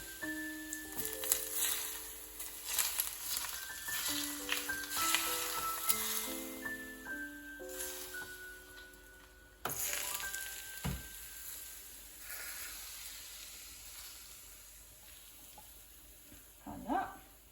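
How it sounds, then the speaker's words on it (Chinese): Hot oil is poured over chopped ginger and scallions, giving a steady hissing sizzle that goes on while someone talks over the cooking of a Lunar New Year's Eve dinner. "好了，我们现在可以来泼油了"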